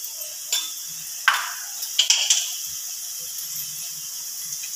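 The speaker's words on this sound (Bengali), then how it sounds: "কচুর শাকটাকে তেলের সাথে ভালো করে ভেজে নিলাম। এতে কিন্তু সুন্দর তেলটা ছেড়ে দিচ্ছে।" Taro leaves fry in oil with a hilsa fish head in a Bengali-style dish, giving a steady hiss of sizzling broken by scattered sharp crackles and pops, with no talking.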